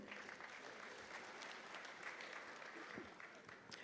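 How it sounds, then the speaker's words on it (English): Steady applause from a graduation ceremony audience fills the hall, a dense even patter of clapping that holds without a break for about four seconds. "Ladies and gentlemen, a round of applause for Dr. Mugambi Mwirigi."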